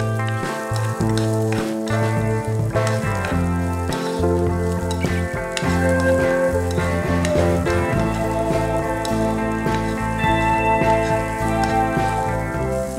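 Onion pieces frying in a pan give a steady hiss and crackle that runs throughout, partly buried under loud background music.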